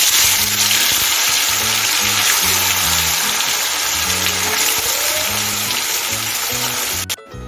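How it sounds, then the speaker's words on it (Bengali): Small mourola fish fry in hot white oil in a wok on a gas stove, a loud, continuous hiss and sizzle that runs unbroken and close, with no talking, before a sudden clatter at the end. "এখন আমি অল্প অল্প করে মাছগুলো ভেজে নিচ্ছি"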